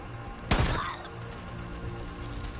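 A single loud incendiary shotgun blast in the video game Far Cry, a sharp close report with a short decaying tail, alone over quiet game ambience.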